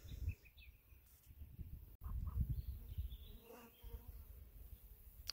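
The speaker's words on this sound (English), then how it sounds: "Look, there's a bee down there now." A bee buzzes outdoors among flowers, a low droning hum under soft background noise, with a few faint bird chirps in the distance.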